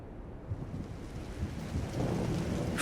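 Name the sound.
rain and thunder in video game Trails in the Sky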